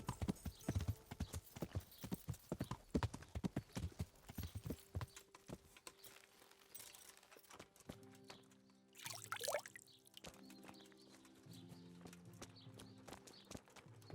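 Horse hooves clip-clop in the Kingdom Come: Deliverance video game, a quiet, rapid run of hoof beats that thins out before soft sustained tones take over.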